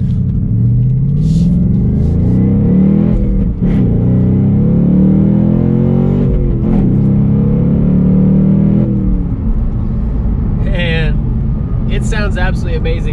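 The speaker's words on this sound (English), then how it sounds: "It has four different exhaust modes. It has quiet, which nobody's gonna ever turn on, normal, sport, and then track." 2019 Ford Mustang Bullitt exhaust in track mode, loud and close from inside the car, accelerating through several gears with revs climbing and dropping at each shift, ending in a few short higher-pitched bursts.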